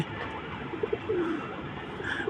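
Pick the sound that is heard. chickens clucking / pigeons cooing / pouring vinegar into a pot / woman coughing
pigeons cooing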